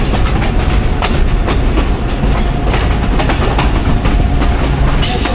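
Black River & Western Railroad heritage train running near Flemington, New Jersey, a loud continuous rumble with rhythmic clickety-clack of wheels over rail joints, heard from on board with no talking.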